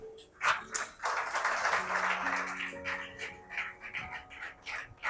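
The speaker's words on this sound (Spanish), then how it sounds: "Denle un aplauso al Señor." A church congregation claps and cheers for the Lord during a Spanish-language sermon, a dense, sustained wash of applause with a few voices and sung tones rising through it, trailing off into scattered claps.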